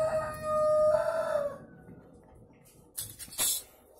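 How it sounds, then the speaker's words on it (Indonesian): A rooster crows once with a long drawn-out call, followed by a few short, sharper squawks from chickens nearby. "Jadi mohon maaf jika suara ayamnya juga masuk ke rekaman."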